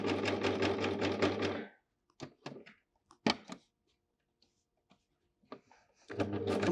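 An Amber Air S 600 overlocker runs at speed in a fast, even whirring chatter, stops for a stretch of faint clicks and handling sounds, then starts stitching again at the end.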